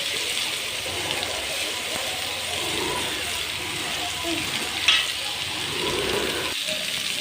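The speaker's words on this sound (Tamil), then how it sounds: "பெரிய வெங்காயம் கொஞ்சம் வதங்கட்டும் நல்லா வதங்கட்டும்" Large onions sautéing in a pan for a vegetable egg stir-fry, giving a steady, moderate sizzle with faint stirring and watery crackle throughout, one brief clink near the end.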